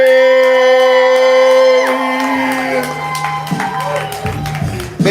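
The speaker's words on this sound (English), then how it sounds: "Make some noise for Miss Paige." Live poetry event audience welcoming a poet, with a sustained crowd roar of cheers and whoops that fades after a few seconds into scattered shouts and claps.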